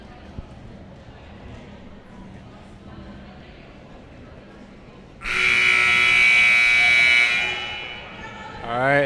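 Game timer buzzer at a CIF-SS girls volleyball match between Pasadena and Arcadia, one long loud electronic tone of about two seconds that starts sharply after steady gym crowd murmur and then fades out.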